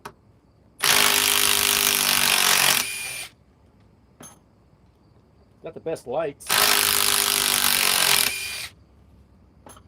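A Metabo HPT triple hammer impact wrench runs in two loud bursts of about two seconds each, with a brief clatter between them, close by and sharp; a voice speaks briefly.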